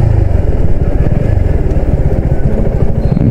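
A Suzuki Gixxer SF 250 motorcycle engine runs loud and close, its rapid, throbbing firing pulses rising and falling as the throttle is blipped, with no talking over it.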